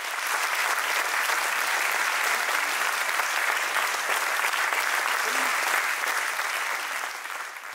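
Sustained applause from a group of pilgrims at the end of a 100 km walk on the Romanesque path to Mont Saint-Michel, arriving at Ardevon; steady dense clapping throughout, easing slightly at the end.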